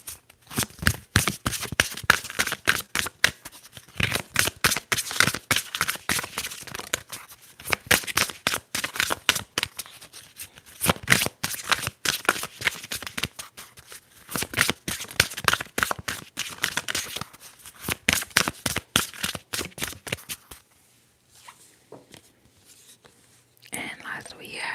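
Tarot cards shuffled and riffled in a quiet whispery setting, a long run of rapid dense crisp flicks in bursts with short pauses, ending in near silence.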